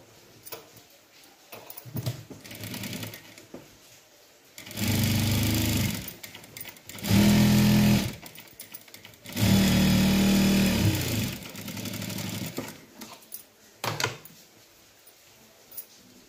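Sewing machine stitching a folded quarter-inch edge on a blouse, running in several loud, steady bursts of whirring, rapid needle clatter separated by pauses, close up.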